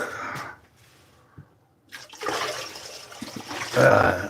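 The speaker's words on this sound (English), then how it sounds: "empty this water real quick." Dishwater is emptied into a kitchen sink: a short splash, a quiet pause, then a rushing pour that builds and peaks near the end. A voice may be faintly present.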